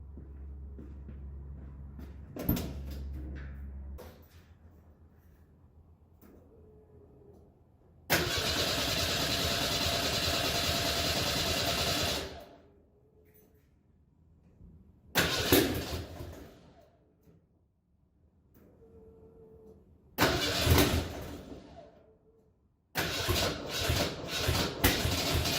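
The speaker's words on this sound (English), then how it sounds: "So now I'm for sure ready to start the car again." A red notchback car struggles to start after transmission work: a starter cranks the engine in several separate bursts of a few seconds each, with quiet gaps between the attempts and no sign of the engine catching.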